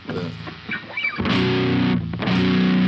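An Ibanez GIO seven-string electric guitar with Fishman Fluence Tosin Abasi pickups in the neck position, played loud and distorted with a fat low end, a few quick notes then sustained heavy chords ringing out.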